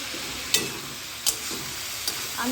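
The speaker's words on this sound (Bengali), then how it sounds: "আলু ভাজা করছি সকালবেলা খাওয়ার জন্য" Potatoes frying in a pan for breakfast give off a steady low sizzle, with a few sharp clinks of a utensil against the pan at intervals.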